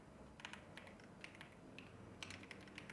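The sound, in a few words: typing on a computer keyboard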